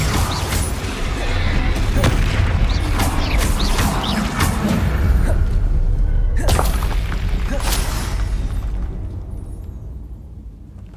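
Spell explosions in the video game Hogwarts Legacy, a dense run of booms, crashes and shattering bursts layered over game music, with one sharp blast near the middle before the noise fades out.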